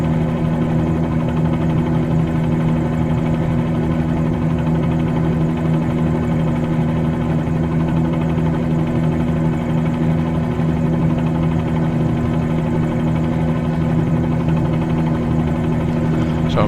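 A helicopter engine and rotor drone steadily and loudly with an unbroken whine and hum, heard from the cockpit in Microsoft Flight Simulator 2020 while flying low over Los Angeles.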